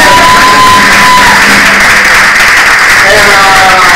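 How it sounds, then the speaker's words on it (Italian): Loud audience applause at a comedy show, dense clapping mixed with cheers and shouts sustained throughout, with a voice calling out over it. "Ok, allora prendi un applauso."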